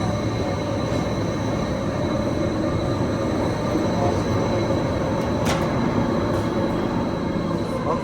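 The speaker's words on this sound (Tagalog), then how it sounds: "Ito yung tren." Train running through a Swiss mountain route, a steady loud broadband rumble and rolling rail noise throughout, with a brief higher screech midway and no clear talk.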